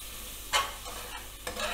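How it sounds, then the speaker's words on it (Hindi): Masala being stirred and mashed in a pan, giving a couple of short scraping strokes over a faint low sizzle, close and quiet with no voices. "और अब मसाला बनाते हुए साथ साथ मैं थोड़ा सा मैश करती जाऊंगी"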